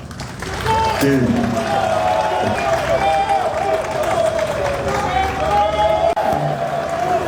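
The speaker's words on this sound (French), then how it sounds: "je vous demande d'applaudir très fort le directeur général" A crowd at a Côte d'Ivoire vehicle fleet renewal event applauds the director general, a loud, sustained wash of clapping and cheering that runs for several seconds, with voices mixed in.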